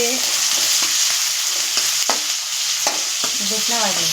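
Masala frying in a pan for a chicken curry: a loud, constant hissing sizzle close up, with intermittent scraping strokes of a spoon and some faint background tones.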